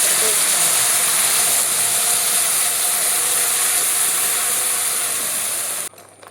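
A mixer grinder whirs loudly and steadily as it grinds cloves, fennel and tomato for an egg recipe. The motor hums close up with a rattling mechanical edge, then cuts off abruptly near the end.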